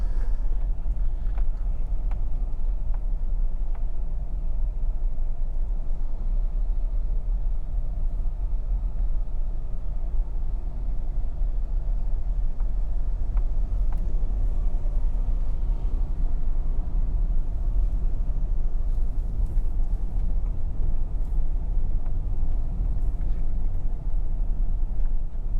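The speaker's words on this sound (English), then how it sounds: "So we're driving in the small town area." Car driving through a small town in Anchovy, St. James, Jamaica, after Hurricane Melissa, a steady low engine and road rumble from inside the vehicle, even and unbroken with faint background noise.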